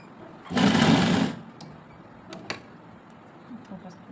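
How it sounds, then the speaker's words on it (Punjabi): A sewing machine stitches a dupatta in one short, close whirring run lasting under a second, followed by quiet handling of fabric. "ਉਹਨਾਂ ਨੂੰ ਬਰਾਬਰ ਕਰਦੇ ਹੋਏ ਸਲਾਈ ਬਣਾਵਾਂਗੇ"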